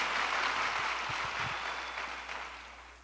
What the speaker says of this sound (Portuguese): Por favor, aplauda minha esposa, irmãos